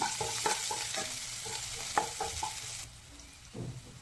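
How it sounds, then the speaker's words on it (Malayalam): Finely chopped green chili fries in a pan while egg bhurji is made, a continuous hiss with spatula scrapes and taps, close but moderately quiet, with the sizzle dropping off near the end. "ഇതിലേക്ക് ഒരു പച്ചമുളക് അരിഞ്ഞത് ഞാൻ നല്ല ചെറുതായാണ് അരിഞ്ഞ് അത് ഇട്ട് കൊടുക്കാം"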